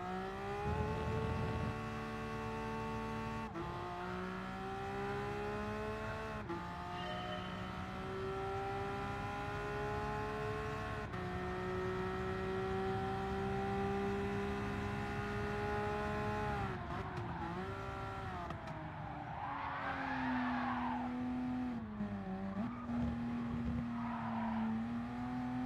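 Race cars lapping in a racing video game, a steady droning engine whine with shifting pitch and gear changes, continuous and close, with brief tire noise near the end.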